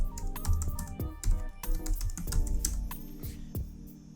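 Fast, steady clicking on a computer keyboard as a collection name is typed into a field in Zotero, dense keystrokes close up with no voices.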